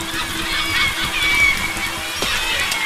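Birds in Besiege give loud, goose-like honks and squawks over a noisy background of game sounds, with no one speaking.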